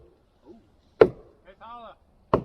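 Two sharp, solid knocks of a hammer striking a hollow tree trunk, about a second apart, with a brief spoken word between them.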